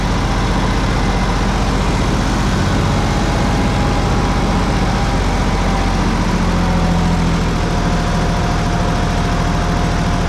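Loud, steady rumble of a tractor engine idling nearby on a mountain plateau in Artvin, Turkey, a low throbbing drone that holds constant throughout.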